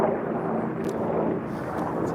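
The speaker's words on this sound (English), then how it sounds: "Canadian Forces helicopters making sure we're all staying in our houses." Canadian Forces helicopters pass overhead, heard as a faint, steady rotor and engine rumble from a distance over quiet outdoor backyard ambience, with no speech.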